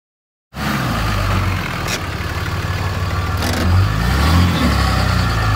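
After a moment of silence, a truck engine towing a fifth wheel travel trailer roars loudly and steadily with a wheel spinning, the revving holding at a high, continuous level and rising slightly toward the end.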